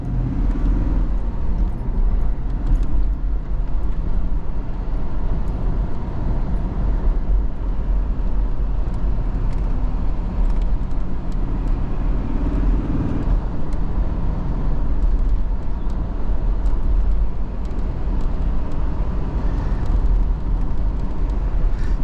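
A 1995 Chevrolet Caprice Classic wagon with a manual-swapped T56 V8 drives along, a continuous loud low engine drone and road noise heard from inside the cabin, steady for the whole stretch.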